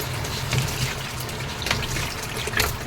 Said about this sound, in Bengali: এবার দিয়ে দেবো এখানে সবজিগুলোকে ভালো করে ধুয়ে।